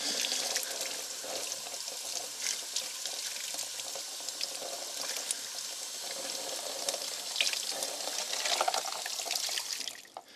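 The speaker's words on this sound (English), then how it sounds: "So rinse it off and rub it off." Tap water pours steadily over an etched Damascus steel blade being rinsed and rubbed in a sink, a continuous splashing hiss with shifting spatters that stops abruptly at the end.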